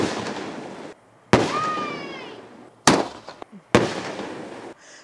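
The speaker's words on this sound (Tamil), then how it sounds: "மல்டிப்புளாக வெடிச்சிட்டே இருக்குது." Sivakasi sky shot fireworks bursting at night, with several sharp, loud cracks separated by short pauses and a whistling rise between them, fairly close.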